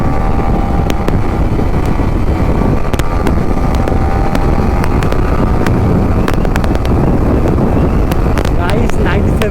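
A Yamaha R15 V3 motorcycle is ridden at full throttle on an open road in third gear. A loud, steady engine roar with rising rev tones plays under heavy wind buffeting, with brief faint voice bits.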